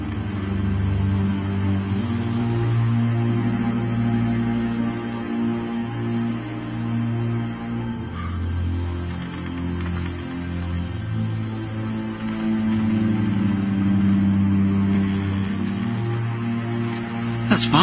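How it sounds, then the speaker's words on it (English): A car engine approaches as a low, wavering rumble that swells and shifts in pitch over a steady hum, moderately loud and drawing nearer toward the end. "That's Father's car."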